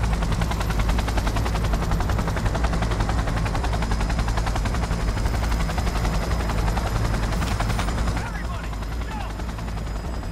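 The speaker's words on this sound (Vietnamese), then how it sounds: "Bây giờ mình phải chờ cho cái trực thăng mình hạ cánh xuống." A helicopter lands in the video game Cyberpunk 2077: a loud, dense rotor roar fills the scene with rapid chopping texture, easing slightly near the end.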